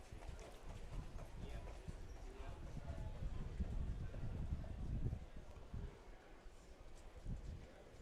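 Horses clip-clop at a harness race at the Preble County fair in Eaton, Ohio, a steady patter of hooves passing at moderate distance over breezy outdoor ambience.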